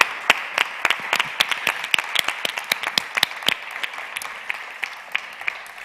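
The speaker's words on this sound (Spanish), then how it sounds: "Un fuerte aplauso" Audience applause at a public event in Sangüesa, Navarra, with many separate sharp claps close by, steady across the whole stretch and thinning slightly toward the end, with no one speaking over it.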